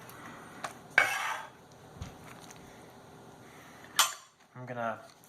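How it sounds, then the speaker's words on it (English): Spoon stirring Velveeta cheese into beef and noodles in a Tupperware microwave pressure cooker pot, a few brief scraping and clinking bursts with quiet gaps between them and a voice speaking near the end. "I'm going to give it a little stir, try to get the Velveeta covered a little bit"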